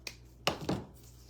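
Stems trimmed for a grapevine wreath: three quick, crisp cutting snips close by, fairly quiet, with nothing else around them.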